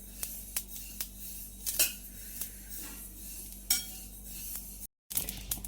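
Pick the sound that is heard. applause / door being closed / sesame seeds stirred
sesame seeds stirred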